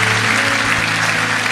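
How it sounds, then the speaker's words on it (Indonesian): A church congregation applauds loudly and steadily, a dense wash of clapping that fills the moment with no break, while a low hum sits beneath it. "sekali lagi berikan tepuk tangan yang meriah buat kami"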